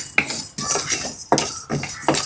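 Chana dal, urad dal and fenugreek are dry-roasted in a pan without oil, with a utensil scraping and clinking against the metal in several sharp strokes and shuffles.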